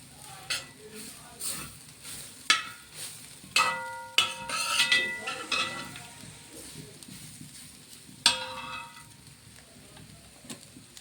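Crushed jackfruit being stir-fried over a low flame for idiyan chakka thoran, with scattered metal spoon-on-pan clinks and scraping over a soft sizzle; nearby and moderately quiet, no talking.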